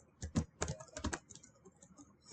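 Someone types a message on a computer keyboard, with quick, uneven clusters of soft key clicks close by and short pauses between bursts.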